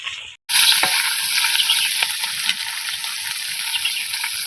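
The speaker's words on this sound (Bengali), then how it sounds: "ওর সঙ্গে একটু বেগুন দেবো দিয়ে ভাজা করবো" Greens and eggplant stir-fry in hot oil in a home kitchen: after a brief silence a loud, steady sizzle starts, punctuated by occasional scrapes and taps of the spatula, with no talk.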